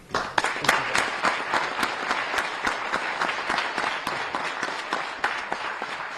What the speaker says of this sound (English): We have to give a big round of applause to Attorney Candy Lambert.